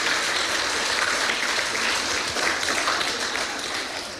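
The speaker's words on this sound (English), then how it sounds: "I think you deserve a round of applause" Sustained applause at a celebrant-led ceremony, a steady dense patter of many hands clapping at close range that holds throughout and eases off slightly toward the end.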